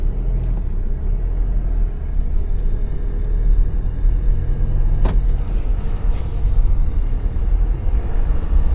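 A car pulling a boat trailer creeps forward at a boat ramp, making a steady low engine rumble close by, with no one talking.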